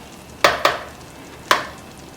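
A spoon handle pokes holes in mutton yakhni pulao rice in a pot, producing three sharp, close knocks: two quick ones, then a single one after a pause.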